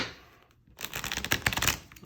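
Tarot cards being riffled and shuffled by hand, a close run of dense crisp flutters building after a brief pause, alone with no talking.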